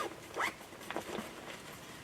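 A zipper closes on a hunting gear bag in a few short, quick rasping pulls, heard close and fairly soft against a quiet background.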